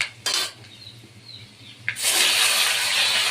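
Vegetables tipped into a hot pan with dried red chilli, panch phoron and bay leaf, a brief clatter of utensils followed by a loud, steady sizzle of frying, close up.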